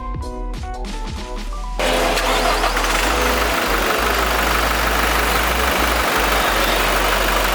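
A Toyota Innova Reborn 2020 G diesel engine cranks briefly with a starter whine, then catches and settles into a loud, steady diesel idle with a dense, continuous rumble.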